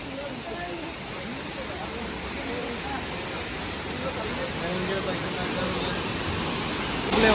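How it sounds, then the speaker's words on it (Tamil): Monkey Falls near Aliyar Dam roars in a dense, steady rush that builds slightly louder toward the end, close and continuous. "சத்தம் ஆர்ப்பரிக்குது அந்த அருவியினுடைய சத்தம்"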